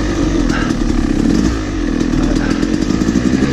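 A dirt bike engine revs hard and close on a steep hill climb, with a loud, continuous buzzing roar that rises and falls slightly with the throttle.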